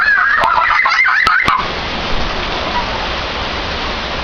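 Steady rain falls outdoors as a broad continuous hiss that carries on through the whole stretch, with a few sharp clicks and a voice over it at the start.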